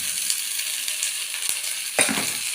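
Green fava beans hit a hot pan with peppers and garlic, giving a steady sizzle with a sharp burst of frying partway through and a couple of light scrapes, close and alone.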